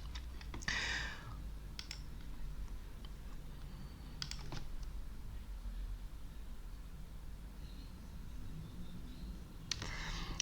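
A computer mouse clicks at a desk, giving a few sharp, sparse clicks scattered over a quiet background hum, with no talking.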